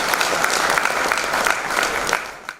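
A stage audience claps for the host of a community and political function in Surat, a dense, steady burst of applause that fades out near the end.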